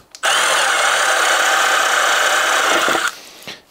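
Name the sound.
power drill pilot drilling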